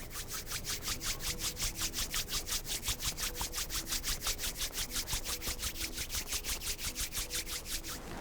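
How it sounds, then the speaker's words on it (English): Palms rub together in a fast, even back-and-forth rhythm, each stroke a soft close swish repeating steadily for several seconds during a yoga session. "rub your palms together"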